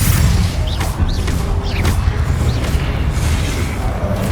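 Confringo fire spell blasts from the Hogwarts Legacy video game, a dense, loud wash of booming explosions and crackling magic effects layered over continuous game sound, with several sharp bursts in quick succession.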